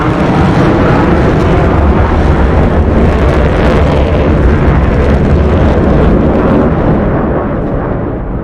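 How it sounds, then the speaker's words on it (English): Military jet aircraft in a flight simulation game, a loud continuous roar of engine noise holding steady throughout with no voices, easing slightly toward the end. "Jet sounds in the morning."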